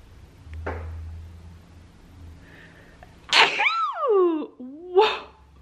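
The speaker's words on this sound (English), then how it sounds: "I have to sneeze" A single loud sneeze bursts out near the mic, preceded by a sharp intake of breath and followed by a brief vocal sound, with quiet room noise before.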